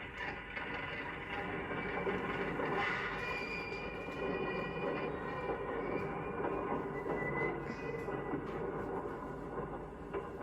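Steady low rumble and clatter of a railroad freight car rolling along the tracks, continuous and moderately loud, with faint metallic squeaks above.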